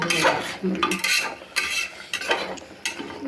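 Fried onions and oil are stirred into a goat trotter curry in a pot, a spoon scraping and clinking in several quick strokes with a soft sizzle underneath, close and fairly loud.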